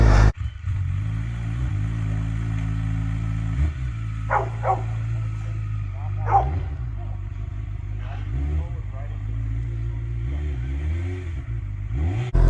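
A 2019 Honda CB1000R motorcycle stuck in about three feet of snow, its engine droning steadily at a constant idle throughout, with a few brief revving surges standing out midway.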